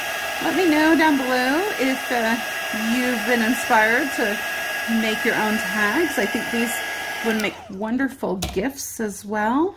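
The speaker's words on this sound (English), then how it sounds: "And we're just going to do a little bit more heat setting." A craft heat tool blowing hot air to set embossing powder, a steady loud whirring drone running throughout while someone talks over it; near the end it cuts off.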